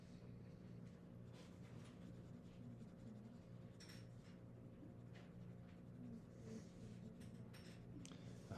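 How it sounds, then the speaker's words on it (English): Soft, steady scratching of a pencil on paper, close and quiet, continuing without pause over a low background hum. "I even notice a different sound with the different pencils."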